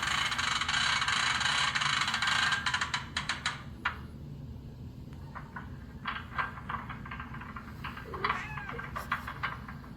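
A cat meows a few times close by over a steady background hum, with some faint clatter and rustling around it.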